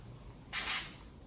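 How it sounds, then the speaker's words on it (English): A can of spray adhesive sprays a single steady hissing burst lasting about a second, close by, then stops, with another short spurt starting right at the end. "you grab your spray adhesive"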